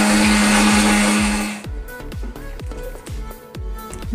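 A kitchen mixer grinder whirs loudly and steadily as it grinds ginger, green chili, black pepper, clove and cinnamon, then cuts off, leaving quieter rhythmic clatter and knocks.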